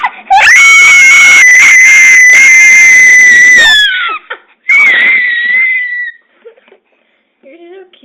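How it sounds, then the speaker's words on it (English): A baby screams at piercing, whistle-like pitch, one long sustained shriek, then a pause and a second shorter scream, close and very loud, followed by quieter whimpers and a brief adult voice. "She's losing her voice by screaming so much."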